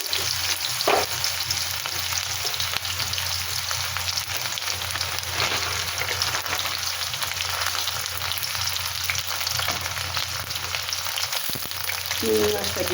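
Dried red chillies and nigella seeds frying in hot oil for a potato and aubergine curry, a steady dense sizzle and crackle throughout, close, with faint stirring and no talk.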